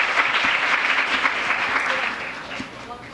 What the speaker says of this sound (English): Please give another round of applause to the team Hirak